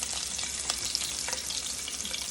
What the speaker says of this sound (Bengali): এখানে আমি পেঁয়াজ কুচি করে নিয়েছি এই পেঁয়াজগুলো আমি ছেড়ে দিব এখন